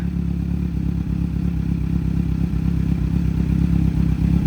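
A 2019 Kawasaki Z900 SE with 24,000 km on it idles close by with a steady low engine rumble, mixed with a faint metallic clatter and vibration. No one talks.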